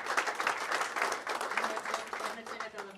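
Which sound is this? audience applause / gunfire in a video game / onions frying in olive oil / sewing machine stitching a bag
audience applause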